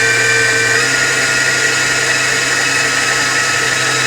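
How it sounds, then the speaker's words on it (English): Electric mixer whirring steadily while mixing a coffee chocolate mocha cake batter, a loud continuous motor drone with a slight pitch drop near the start, no voices. "let the mixer do its thing while I cut up the butter"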